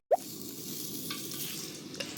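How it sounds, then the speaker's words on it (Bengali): Onions fry in a pan at an outdoor winter picnic. After a soft knock at the start, a continuous close sizzle carries on, with light stirring scrapes mixed in. "পেঁয়াজ ভাজা আর রাঁধুনি।"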